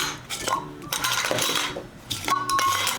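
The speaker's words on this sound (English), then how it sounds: "I'm going to put all the bottles here with the lids." Glass jam bottles and their lids are set into a Thermomix Varoma steaming dish, giving close, bright clinks and knocks of glass and metal in uneven bursts, with no voices.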